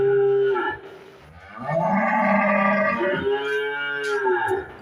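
Holstein Friesian cattle and bull calves lowing at close range: a loud, drawn-out moo, a brief pause, then a longer, deep bellow rising again at the end.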